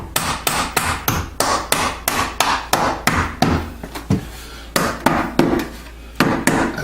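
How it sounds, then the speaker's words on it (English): Steady, evenly spaced blows as a rubber-tipped hammer drives a nail into the wooden frame of a casement window, with about twenty close, sharp knocks in a regular rhythm and no talking. "I'm hammering with the bottom end of my hammer, the rubber tip"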